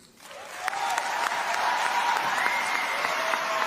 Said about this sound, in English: And I just wanted to include the applause at the end.